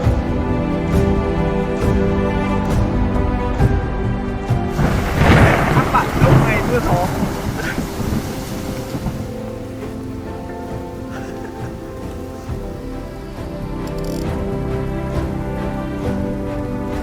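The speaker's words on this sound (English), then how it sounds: "Ôi, mưa ôi." Rain pours steadily outdoors in Cao Bang while thunder rolls loudly, with a strong burst early on, then the downpour continues as a dense hiss; a voice speaks briefly.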